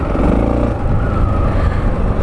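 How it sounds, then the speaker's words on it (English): A heavy vehicle rumbles past nearby, a steady loud engine drone with deep low-end that holds throughout without a clear fade. "Big lorry."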